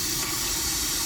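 Cold tap water runs from an RV kitchen sink faucet in a compact 20-foot Keystone Springdale travel trailer, a loud, steady rushing hiss up close with no break.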